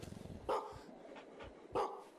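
A puppy in the horror game Maid of Sker gives a couple of short, faint yelps and barks, with soft whimpering between them in a quiet game scene.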